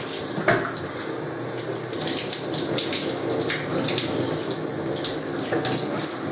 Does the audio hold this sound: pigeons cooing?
no